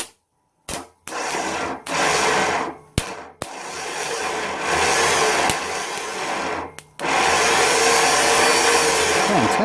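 A starter motor bench-tested on jump leads whirs loudly in repeated bursts, starting and stopping abruptly with short silences between spins, then running continuously at the end.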